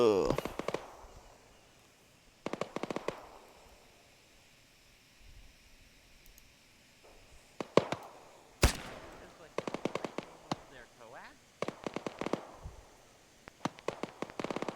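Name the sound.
distant gunfire in a video game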